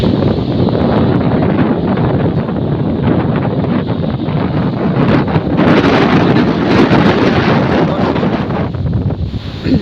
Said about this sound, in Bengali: হঠাৎ করে দেখেন বাতাস ছেড়ে দিচ্ছে